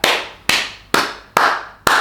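Five sharp, loud hand claps in applause, evenly spaced about half a second apart, each with a quick decay into a short room echo, with no talking.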